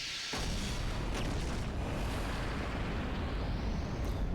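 A video game explosion in Professor Layton starts with a sudden loud boom and gives way to a sustained, dense roar of rumbling debris that holds at full strength to the end.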